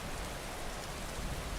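Steady, hissing rainfall in the video game Skyrim, a dense, unbroken wash of drops with no voices over it.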